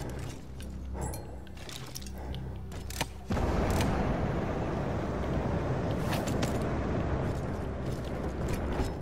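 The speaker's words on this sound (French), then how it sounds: "cette explosion fut l'un des plus beaux spectacles de" A deep, sustained roar from a cannon being blown up in the video game Battlefield 1 erupts abruptly and rumbles on for several seconds, with crackling debris, fairly loud throughout.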